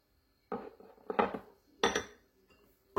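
A spoon stirring turmeric into a homemade face mask in a small bowl, a few separate bursts of scraping and clinking, quiet, with short pauses between strokes.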